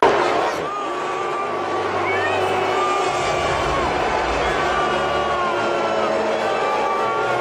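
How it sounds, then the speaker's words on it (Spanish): A large stadium crowd at an American football game boos and whistles at President Trump, a dense, continuous roar of jeers and shrill whistles with a few scattered claps mixed in. "Se escucha claramente la silbatina y los bu, que son mucho más fuertes que algunos aplausos"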